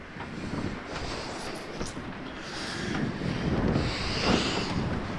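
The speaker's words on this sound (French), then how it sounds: "Il y a plus que 12 nœuds de vent" Strong wind of over 12 knots while sailing toward Hyères, a continuous blustery rush buffeting the microphone with rising gusts and faint water noise underneath, no speech.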